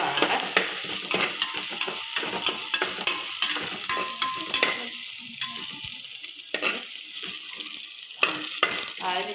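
Crushed ginger and garlic frying in a hot pan give a loud, continuous close sizzle broken by scraping stirs and occasional utensil clinks, no talk.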